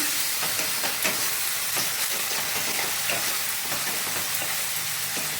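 Soya chilli sauce fries in a pan over low heat, a dense, continuous close sizzle broken by the scrape and clatter of stirring.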